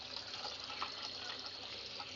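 Tap water runs steadily into a sink while a coffee maker part is rinsed by hand, a soft continuous hiss and splash with no talking.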